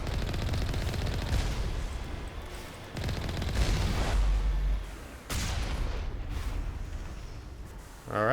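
Gunfire from snipers in the video game Mass Effect, dense bursts of shots and impacts that come in waves, loud and continuous, with brief pauses between volleys and no talk over them.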